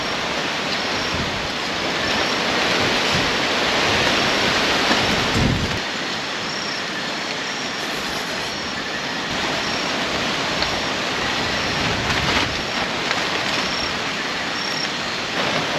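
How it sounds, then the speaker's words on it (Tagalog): Strong wind and heavy rain batter a moto camping spot near Mayon in Tabaco, Albay, a dense, continuous roar that holds steady for the whole stretch, loud and close with no voices. "Ang lakas ng hangin, tsaka umuulan na naman."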